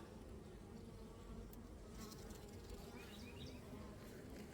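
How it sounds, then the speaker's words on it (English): Honey bees buzz steadily inside a hive as a newly emerged worker chews her way out of her cell, a dense close drone filling the whole stretch with no voices. "A brand new baby bee right there, working her way out."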